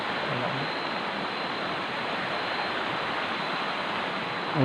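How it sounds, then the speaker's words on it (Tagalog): Strong, heavy river water rushes steadily and loudly in a dense, unbroken roar from start to finish, close by and filling the space with no pause. "Ang lakas ng tubig ngayon mga guys."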